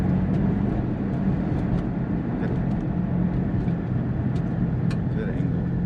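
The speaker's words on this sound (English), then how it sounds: "I was just warming up the tires." A single-turbo Nissan 350Z revs and rumbles loudly and steadily while warming up its tires, a constant close engine roar with a voice talking over it.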